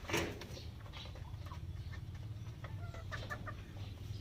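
Soft, scattered clucks from a black hen over a low steady hum, faint and fairly close, with no voices.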